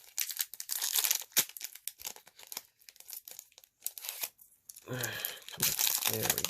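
A Kaldheim Collector booster pack's foil wrapper is torn and crinkled open up close in sharp bursts of crackling and ripping, with a short pause in the middle and a person talking briefly.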